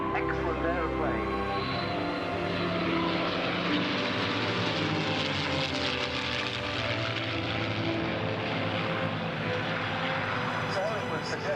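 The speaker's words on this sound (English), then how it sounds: "this was the Allison B-1710 engine that used on the P-40" A P-40 fighter with an Allison engine flies at the Duxford 2015 air show, giving a continuous distant propeller-engine drone with a shifting pitch under a commentator's ongoing talk.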